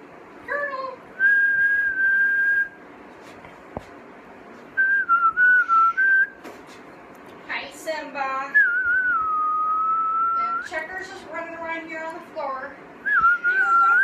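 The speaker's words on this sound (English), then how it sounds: "Whistling drives him crazy." A person whistles indoors in short melodic phrases and sustained notes, spaced by pauses, fairly close and clear over a quiet room.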